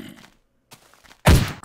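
A single loud, close gunshot from a weapon in the Minecraft 1.3.2 Day Z mod video game, heard near the end after a short stretch of quiet and soft game noise.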